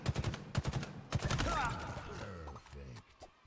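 Rapid bursts of gunfire from rifles in a Halo-style shooter game: several quick volleys of sharp cracks, loud and close, followed by a metallic reload clatter.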